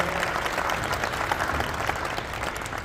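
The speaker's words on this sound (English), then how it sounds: "give yourselves a warm round of applause for coming out this morning in this cold weather" An audience at a cold-morning press conference introducing Alabama A&M's new football coach claps in a dense, sustained round of applause that fills the room, steady throughout the short burst.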